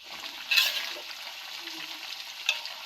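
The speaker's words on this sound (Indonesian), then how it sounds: "goreng daging." Meat frying in a pan in a home kitchen, a continuous sizzle with brief stirring bursts and no talk.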